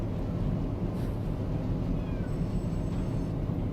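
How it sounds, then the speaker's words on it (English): A cat meows faintly over a steady low rumble of train simulator engine noise, the cries brief and partly masked by the continuous drone. "What are you meowing at me for?"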